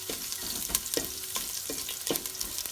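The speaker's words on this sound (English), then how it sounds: "Once it tempers, I'm going to put in ginger." Ginger sautéing in hot tempered oil for a vegan lentil patty, with a steady close sizzle and about four evenly spaced spoon scrapes against the pan.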